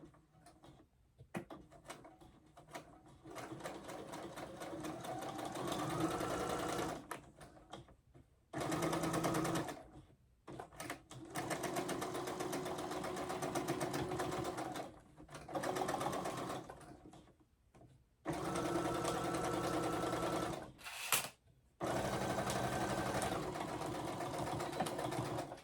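A sewing machine runs in several loud, steady bursts separated by brief pauses, a close mechanical whir stopping and starting repeatedly.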